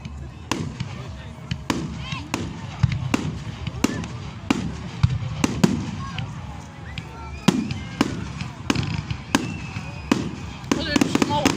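Bonfire night fireworks in Mayfield: rapid bursts of sharp cracks and bangs, some in quick machine-gun-like volleys, loud and close, with people talking over them.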